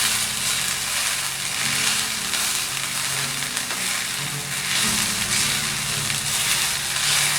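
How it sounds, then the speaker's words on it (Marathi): Vegetables seasoned with veg aromat sauté in a pan for tacos, a loud, continuous close sizzle with occasional stirring scrapes and crackles, and no voices over it. "आता हे पण व्यवस्थित सगळं परतवून घेते।"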